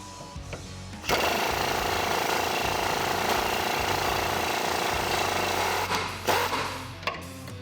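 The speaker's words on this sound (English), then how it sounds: "We're gonna get that out of the way using an 18 millimeter socket and a 21 millimeter wrench" A shackle bolt on a 2004-2013 Ford F-150 is being removed with an 18 mm socket and 21 mm wrench. A loud, sustained rattling hammer runs for about five seconds after a quieter start, then ends in a few clanks.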